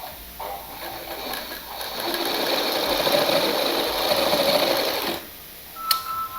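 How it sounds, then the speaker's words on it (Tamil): Sewing machine running a double stitch on a newborn baby frock, a steady continuous whir for several seconds after a short start, ending with a brief click. "கீழே வந்து டபுள் ஸ்டிச் போட்டுக்கலாம்."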